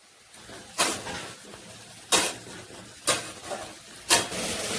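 Spoon stirring fried potatoes, peas and chopped tomatoes in a pan for a Bengali aloo dum, four distinct scraping strokes against the pan over a soft background sizzle.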